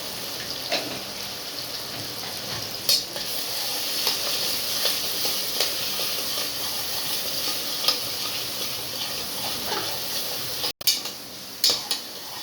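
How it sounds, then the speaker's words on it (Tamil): Onions with green chilies fry steadily in a hot pan for mushroom biryani while a utensil scrapes and taps against the metal now and then as it is stirred. "போட்டு நல்லா வதக்கணும். நல்லா வெங்காயம் கலர் மாறுற வரைக்கும் வதக்கிட்டே இருக்கும்"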